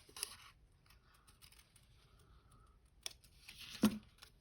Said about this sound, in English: You only move the scissors when you're going down a straight line like that.